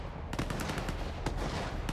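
Distant bursts of automatic and single-shot gunfire crackle ahead in the video game STALKER 2, rapid and fairly faint, with no voices over them.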